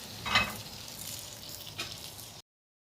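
Potatoes fry in hot oil with a steady soft sizzle and a couple of faint stirring clinks, then the sound cuts off abruptly.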